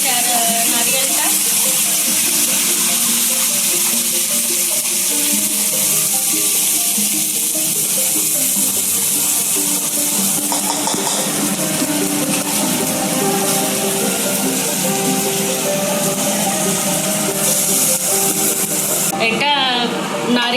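Kala masala paste frying with onion and coconut for a Maharashtrian chicken curry, a steady sizzle running throughout with a person talking over it.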